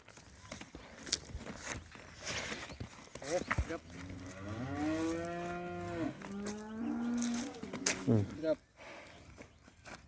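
A Khillar cow moos in a long, drawn-out low call, followed by a shorter second moo, with people talking quietly nearby and some shuffling.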